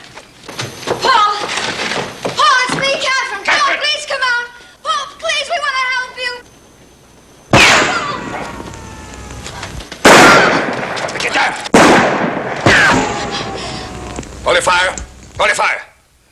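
Loud sharp gunshot bursts crack out in a dramatic Western scene, several separate blasts with ringing tails after the opening stretch of raised voices speaking.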